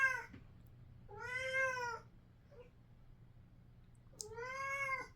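Pet cat indoors making chirping, trilling meows at birds outside, two drawn-out calls and a short chirp between them, fairly close against a quiet room hum.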